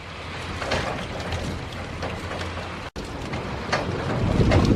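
A storm under a tornado warning with 60 mph winds and hail, a dense, steady roar of rain and wind that builds toward the end, with no talking.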